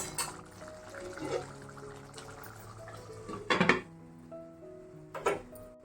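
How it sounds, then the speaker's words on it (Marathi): A lid is set back onto a pan of cooking raw banana masala, with a few close metallic clanks and clatters standing out from a quiet kitchen background. "नाही अजून शिजलेले पुन्हा झाकण ठेवायला लागेल"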